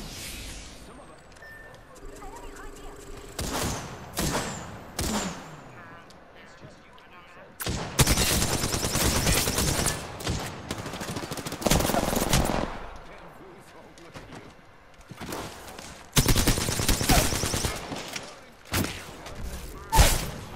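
Automatic weapon fire in the battle royale shooter Apex Legends comes in several loud, sustained bursts separated by quieter gaps, with players talking between and over the shooting.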